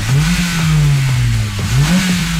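A 200 hp Honda VTEC engine revs hard in a loud, close drone that rises and falls in pitch, rising past 6000 rpm in repeated sweeps.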